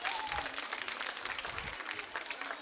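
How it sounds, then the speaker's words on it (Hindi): Audience applause at a Holi quiz show, a dense steady wash of clapping from a crowd lasting throughout, with faint voices mixed underneath. "चलिए तालियां सबके लिए बजाइए आप।"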